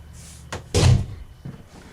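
A kitchen cabinet door in a Forest River Quailridge tiny house on wheels bangs shut, preceded by a brief click and followed by a softer knock, close and clear.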